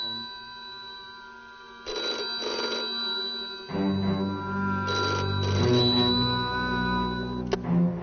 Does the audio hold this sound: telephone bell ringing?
yes